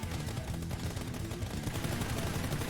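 Rapid automatic rifle spray in PUBG, a dense, continuous burst of gunfire held steady for the whole stretch, loud and close with no talking.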